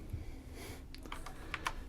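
A few scattered keyboard key clicks, soft and close, with quiet background hum and no talking.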